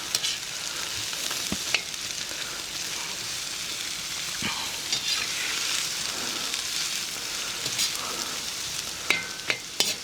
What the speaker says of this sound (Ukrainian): Карамелізуємо нашу цибульку.